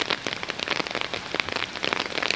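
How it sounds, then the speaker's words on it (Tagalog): Rain falling steadily at Lake Biwa in Japan, a dense close patter of drops hitting a surface, loud and continuous with no voices. "And it's raining right now."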